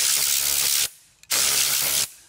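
Two loud bursts of compressed air hiss sharply from a blow gun blowing out a pad, separated by a short pause, close up and without voices.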